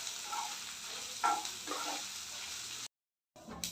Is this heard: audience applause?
no